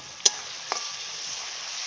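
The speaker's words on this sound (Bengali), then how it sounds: "এটাকে আমরা প্রায় 2 মিনিট মতো খুব সুন্দর করে কষিয়ে নেব।" Spice paste frying slowly for a country chicken curry, a soft continuous sizzle with two sharp clicks of a utensil against the pan early on.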